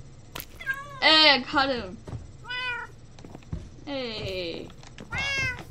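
Several Minecraft cat meows, short and rising, repeat through the clip, near and fairly loud, with a person talking between and over them.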